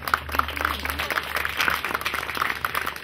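Audience clapping at a gathering to congratulate a young woman on getting into university, a loose scattered applause of moderate loudness with a few sharper hand claps standing out.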